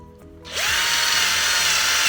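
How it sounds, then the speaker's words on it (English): A Scheppach GS650 multi-function sharpener used as a drill spins up and bores into wood, a loud steady whine starting after a brief quiet lead-in and continuing without pause. "So drilling of wood, let's have a look how it gets on."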